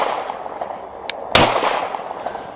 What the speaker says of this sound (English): the pistol, like I said, 124 grain, with the muzzle brake on it